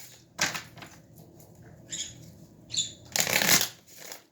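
Tarot cards being shuffled and pulled by hand, a series of soft riffling and flicking bursts, the loudest and longest near the end, close and quiet with no talking.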